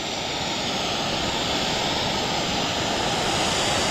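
Steam geyser in a high Bolivian desert roaring continuously, a loud, steady broadband rush close by with no pauses and no voices.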